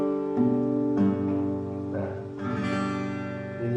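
Acoustic guitar chord strummed cleanly with all strings ringing, struck several times in a steady sequence of sustained, close, moderately loud chords with no talking.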